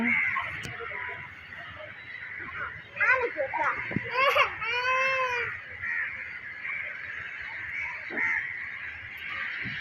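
Birds calling outdoors at dusk near a mosque minaret, with a cluster of harsh honking and squawking cries in the middle and fainter calls around them, while people talk over the scene.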